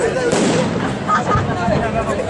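Fireworks at the Valencia Falla festival burst in quick succession, loud crackling booms layered over a dense rumbling wash with people talking beneath.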